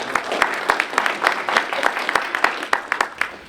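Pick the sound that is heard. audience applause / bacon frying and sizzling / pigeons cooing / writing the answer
audience applause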